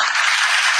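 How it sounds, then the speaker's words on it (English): Short burst of studio audience applause on a live talk show, a dense even wash of clapping at steady loudness with no voices over it. "Let me get you some applause."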